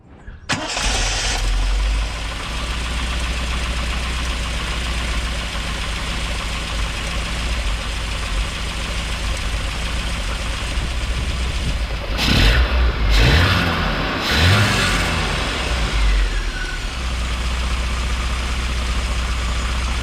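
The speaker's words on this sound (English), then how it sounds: "I'm going to start the engine up again" A Triumph TR7 with SU carburettors starts with a quick crank and catch, then settles into a steady, loud idle, with a couple of brief blips of revs partway through.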